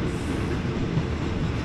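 An ordinary passenger train runs between Taling Chan Junction and Salaya in Thailand, and a steady, close low rumble of carriages on the rails carries through with faint rattling and no speech.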